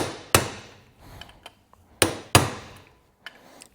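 A hammer strikes a spring-loaded manual impact driver being used to turn engine bolts: two pairs of loud, sharp metallic blows with ringing decay, separated by lighter clinks and taps.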